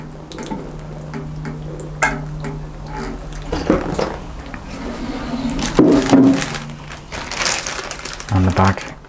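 Water splashes and trickles in short bursts onto freshly potted perennial cuttings, with rustling and handling noises and a voice talking at moments.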